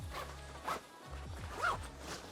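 A luggage compartment zipper is pulled open in a couple of short raspy strokes, close and clear, with no talking.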